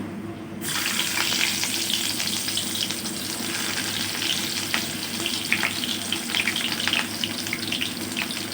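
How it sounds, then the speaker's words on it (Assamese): Onions frying in hot oil with panch phoron sizzle continuously and loudly after a brief quiet start, with crackling pops scattered throughout. "পিঁয়াজখিনি ৰঙচুৱা হোৱালৈকে ভাজিব লাগিব।"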